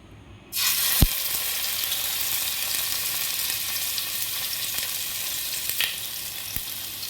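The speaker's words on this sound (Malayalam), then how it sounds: "ഇനി നമുക്കിനി ചിക്കൻ ഇടാം" Chicken for alfaham drops into hot oil on a gas stove and starts a loud, steady sizzle that continues unbroken, with a few sharp clinks and pops along the way. There is no talk.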